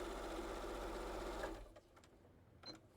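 A sewing machine quilting a summer quilt inside a school bus runs fast and loud with a high whirring hum, then stops abruptly, leaving faint clicks and handling noise.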